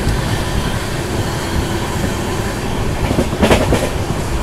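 The Paschim Express runs at speed, close to 120 km/h. Loud, continuous rumble and rattle fill the carriage, with a brief burst of wheel and track noise near the end.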